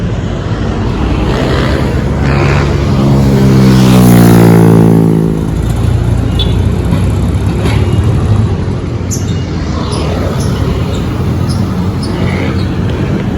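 Vehicles pass along Soriano Avenue in Intramuros, Manila, as a steady roar of road traffic, with one louder vehicle sweeping close by around the middle before the wash of traffic settles back to a constant hum.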